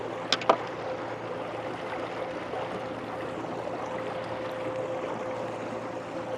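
An electric rudder-style outboard motor drives a boat at full speed downwind, a steady whirring drone with a faint tonal hum over constant water rush, plus a couple of brief knocks near the start.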